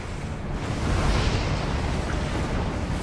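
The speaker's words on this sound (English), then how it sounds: "Firing cannon now." A mech's main cannon fires in the video game Enslaved: Odyssey to the West, with a loud, rumbling blast and a heavy roar that sustains for about three seconds.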